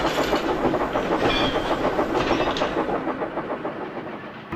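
Steam engines shunting on a railway, with a rhythmic chuffing and clattering of wheels and cars, loud and close, fading slightly toward the end.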